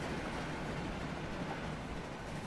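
An oil train runs in the Transport Fever railway game, a steady dense rumble of wagons rolling along the track with no breaks and no speech.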